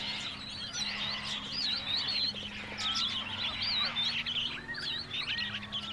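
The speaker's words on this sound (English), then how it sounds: "Lots of parrots flying around." Many shrill parrot squawks and chirps overlap continuously in a busy, noisy chorus, loud and close, with birds calling over one another.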